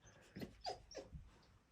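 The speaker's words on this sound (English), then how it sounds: "Say hi to the dog while you're here." A female dog in a shop gives a few soft whimpering, whining vocalizations spaced across a moment, quiet and fairly close, with no talk.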